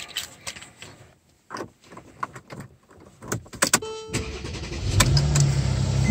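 Small clicks and handling noises, then a 2014 Mercedes-Benz E350 Cabriolet engine cranks and starts and settles into a steady close idle, with no talking.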